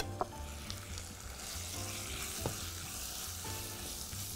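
A cup of rice goes into a frying pan for a Chinese-style beef dish, with a steady close sizzle and a few soft clinks and stirring scrapes.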